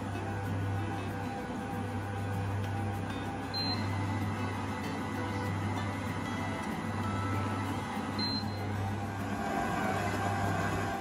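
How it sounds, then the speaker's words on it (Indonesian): An electric stand mixer kneads bao dough at low speed, a steady motor hum with a constant churning whir that runs evenly without talk. "Oke, kita mixer lagi, low speed aja mulainya, naik pelan-pelan ya."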